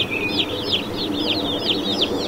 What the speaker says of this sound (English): 100 chicks.